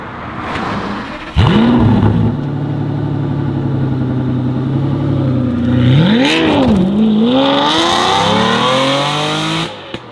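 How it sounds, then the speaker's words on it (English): An Aston Martin DB9 Volante V12 engine fires up and settles into a deep, steady bass-baritone exhaust rumble, then revs sharply upward and falls back, loud and close. "I prefer the Aston bass baritone rumble"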